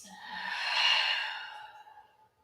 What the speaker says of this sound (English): Let's take a full deep breath in and a big exhale.